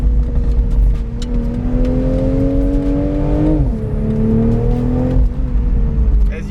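A Toyota Supra or BMW Z4 convertible sports car engine revs loudly and steadily toward a 7,000 RPM limit, heard from inside with the roof open, its pitch climbing, dipping, then rising again.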